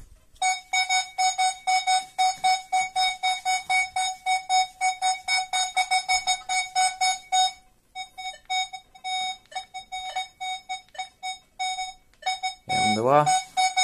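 Multi-frequency metal detectors such as the Minelab Manticore, XP Deus 2 or Minelab Equinox 800 give target signals as a fast train of steady, clear electronic beeps, followed by a short pause and then a warbling tone at the end.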